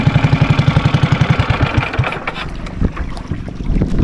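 A fishing boat's engine idles and chugs in a steady, close pulsing rhythm, then revs and grows rougher with splashing, working clatter on the open water out at sea.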